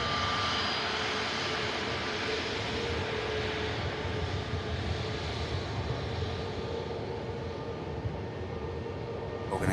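A Ryanair Boeing 737 jet inbound from Gdansk roars steadily at an airport, a continuous broadband engine rush with faint high whining tones, moderately loud and holding level throughout.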